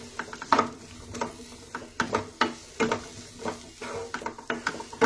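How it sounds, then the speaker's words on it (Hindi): Onions frying in mustard oil in a home-kitchen pan, heard as a run of uneven scraping and clanking stirring strokes against the metal, with a faint sizzle beneath and no voices. "मैंने यहाँ पे सरसों के तेल का यूज किया है।"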